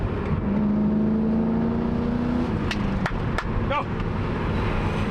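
Audi S3 performance car pulling hard at high RPM, a close, steady engine drone with a rising whine, interrupted by a few sharp clicks, while a voice shouts over it.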